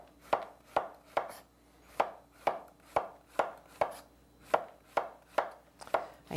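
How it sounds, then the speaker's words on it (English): A knife chops organic zucchini into thin matchstick slices on a cutting board, about a dozen crisp, evenly spaced thuds close up with no talking. "organic zucchini. Okay, so this is going to have a kind of a matchstick cut."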